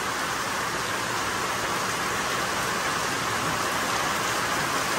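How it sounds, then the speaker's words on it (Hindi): Heavy rain pours steadily in a dense, unbroken hiss that stays loud for the whole stretch, with no voices over it, during a vehicle breakdown in central India. "और बारिश यहाँ से बहुत ज़ोर से"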